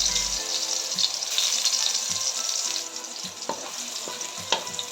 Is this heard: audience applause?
no